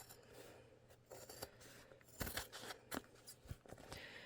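Scissors snip through woven fabric while a zippered bag is being made, a run of sharp, close cuts arriving in irregular bursts with short pauses, no voices.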